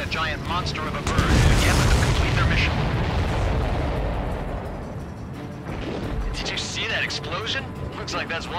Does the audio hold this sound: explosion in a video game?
yes